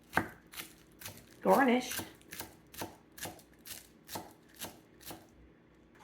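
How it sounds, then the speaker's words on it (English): Knife chopping celery tops on a cutting board, a steady series of close, crisp taps with one brief rustle of handling, while a voice speaks softly for a moment. "I'm going to chop up the celery tops"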